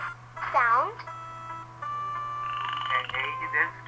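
Sweeping, warbling cartoonish croak from a frog in a Mario preschool video game, followed by a long electronic tone and chirpy game sounds over a steady low hum, close and clear.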